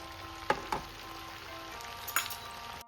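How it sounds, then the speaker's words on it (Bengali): Crispy potato sticks frying in hot oil give a faint, steady sizzle, punctuated by a few sharp clinks and scrapes as they are moved about. Quiet and close, with no speech. "এবার আমি এগুলোকে ভেজে তুলে নেব"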